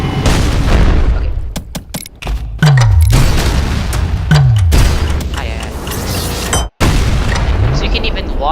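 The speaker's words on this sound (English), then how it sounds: "So you can even launch rockets, not even just a core eject." Rockets fire and explode in ULTRAKILL, with sharp booming blasts and descending whistles repeating over several seconds, loud and close, with a brief cut to silence near the end and the game's clutter throughout.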